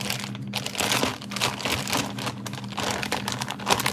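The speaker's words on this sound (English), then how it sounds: "I'm gonna take this bag and fold it over." A plastic bag being folded over, giving steady close crinkling and rustling throughout a few seconds, with no talk.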